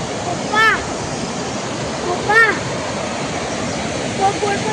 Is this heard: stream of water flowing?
yes